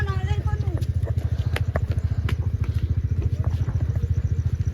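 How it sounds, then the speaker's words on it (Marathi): A vehicle engine runs close by with a steady, rapid low chugging throb, while voices talk over it. "गाडी चालू करा ना."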